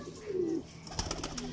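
Pigeons of a breed kept for show give a low, soft coo that wavers, with a brief fainter call near the end over light background noise, close by.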